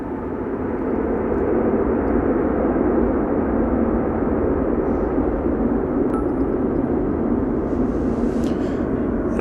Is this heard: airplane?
yes